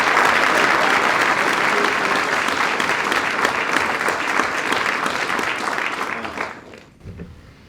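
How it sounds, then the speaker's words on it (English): Audience applause for servicemen from the USS Vermont at a Central Vermont Chamber of Commerce St. Patrick's Day breakfast, a dense, steady wash of clapping that fades out near the end. "Please, another round of applause."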